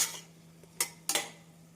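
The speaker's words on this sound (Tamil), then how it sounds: "அரிசி சேர்த்து வெங்காயம், தக்காளி மசாலாவுடன் நன்றாக மிக்ஸ் செய்ய வேண்டும்." Soaked rice being stirred into onion, tomato and masala in a metal pot for coconut milk rice, giving a few sharp spoon scrapes and clinks against the pot over a quiet background.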